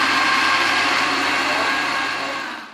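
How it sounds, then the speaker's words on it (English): A blender whirs with a steady high motor whine, close and loud, tapering off at the end, blending ingredients for yam pottage. "I'm just gonna go ahead and just blend"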